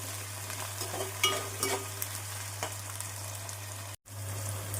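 Tomatoes frying and being stirred in a pan with onion and ginger-garlic paste for a prawn and raw mango curry: a soft, steady sizzle with faint scraping stir strokes and a low constant hum underneath, briefly cutting out near the end.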